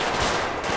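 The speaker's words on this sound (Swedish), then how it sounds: "Jag skjuter." Gunfire from a police officer shooting in a GTA game, a short loud burst of rapid shots heard up close.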